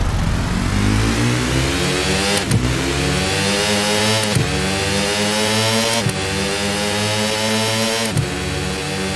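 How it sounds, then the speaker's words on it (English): A truck engine revs repeatedly to pull away, rising and falling in steady surges about every two seconds, loud and close with no voices. "Unlike other trucks, you have to rev this up a little bit to get going."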